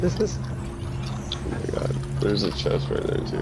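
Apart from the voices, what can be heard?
wolf growling in the video game Fortnite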